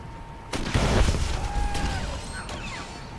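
A video game explosion in a shooter set around a primary conduit module: a sudden loud boom at the start, then a rumbling blast with crackling debris and mechanical sounds that fade over a few seconds.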